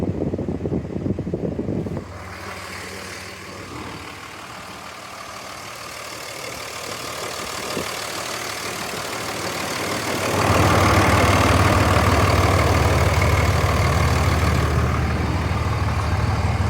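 A 2004 Dodge Ram 2500 with the 5.9 Cummins diesel idles nearby, a low steady rumble with wind buffeting the microphone that grows louder partway through.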